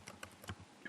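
Typing on a computer keyboard, a short run of light, quick keystrokes close by, ending with one sharper key tap.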